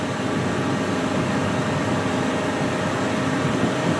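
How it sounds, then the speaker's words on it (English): An outboard motor with a 21-pitch stainless propeller drones steadily at cruising speed on a boat, giving a constant close hum and whine at a single level with no voices. "Motor sounds nice, no noises."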